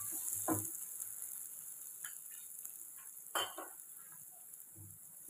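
Cumin and Kashmiri chilli powder are stirred in a pan for a fresh river-fish curry, making a few soft scrapes over a faint, low sizzle in a quiet room.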